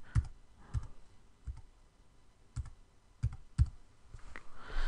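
A password is typed on a computer keyboard as a handful of sharp, close key clicks at uneven intervals, with quiet pauses between them and no voices.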